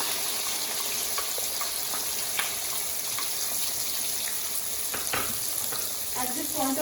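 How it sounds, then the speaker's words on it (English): Onion paste sizzles hard in hot oil with green cardamom while making paneer jalfrezi. A dense, continuous hiss and crackle runs throughout, with occasional stirring scrapes and clicks close by. "Then our main challenge is to pour on the 1 cup of onion paste."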